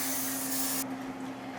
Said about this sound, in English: I'm just going to give it a quick spray so that it won't stick to the bottom.